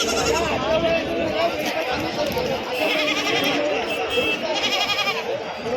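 Many large goats bleat continuously amid crowd chatter at a goat market in Pebbair, a busy, noisy livestock market scene with overlapping calls.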